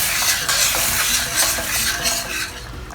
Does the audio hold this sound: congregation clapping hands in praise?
no